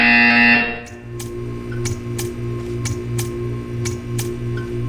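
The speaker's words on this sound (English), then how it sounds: "When you hear the buzzer, stare at the art." Repeated electronic buzzer in the video game Portal 2, a loud tone cutting off and then regular harsh buzzing pulses about every half second over a low hum, no voice.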